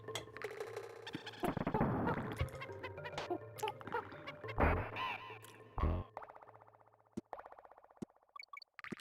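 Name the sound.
bird squawks, video game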